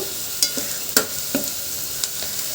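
Onion slices fry golden brown in a pan, a steady close sizzle broken by a few sharp stirring scrapes spaced about half a second apart.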